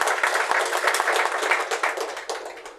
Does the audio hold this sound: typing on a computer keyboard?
no